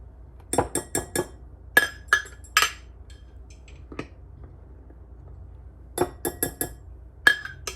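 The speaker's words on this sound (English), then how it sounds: "I'm going to give it a good whisk." A wire whisk mixing unbleached all-purpose flour and other dry muffin ingredients in a bowl gives bright metallic clinks against the bowl. They come in quick clustered bursts of several taps, separated by quiet pauses, close and clear.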